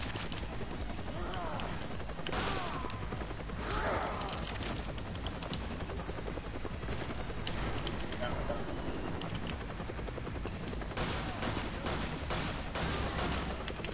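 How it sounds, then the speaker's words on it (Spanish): Gunshots bring down a zombie in Resident Evil Code Veronica, a few sharp bursts standing out within a dense, continuous bed of noisy game sound. "Pinche zombie, se murió de tres balazos"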